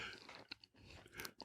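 Close-miked chewing right at the microphone, wet crunching and smacking bites in an irregular rhythm, loud and intimate with no talking.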